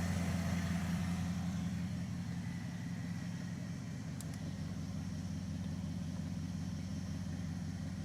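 The engine of a Crew Cab Charger idling steadily after a carburetor adjustment, a continuous low, even rumble with no change in pace, heard fairly close without talk.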